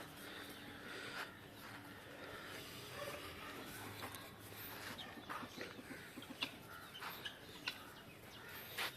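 Chickens cluck and chatter in a loose, scattered flock, with brief sharper calls popping out over a steady outdoor background.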